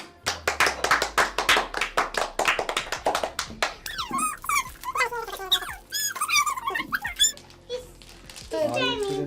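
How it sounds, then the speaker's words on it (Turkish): A family clapping at home during a snack taste-test contest, a rapid burst of close, crisp handclaps for a few seconds, followed by high squealing children's voices and talk. "Alkışlıyoruz."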